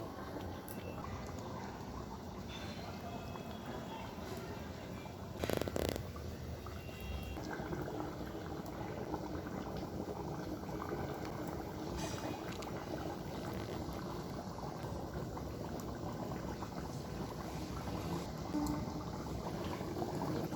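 Water boiling in a covered pan while duck curry cooks, a steady, dense bubbling hiss that runs unbroken throughout at an even, moderate level, close, with no voices.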